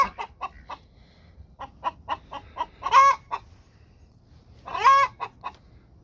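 Several chickens cluck in short, evenly spaced bursts, with two louder, drawn-out squawks standing out among them. No one speaks, and the birds sound fairly close.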